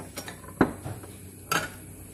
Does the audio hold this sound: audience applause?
no